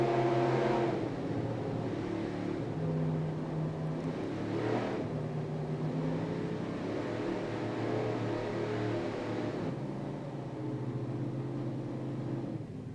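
A racing powerboat engine during a race at the 2002 APBA World Championships, a steady droning roar with slight rises and falls that sounds somewhat distant, running throughout and easing off near the end.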